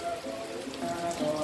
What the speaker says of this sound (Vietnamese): Bây giờ bắt đầu nó mưa rồi.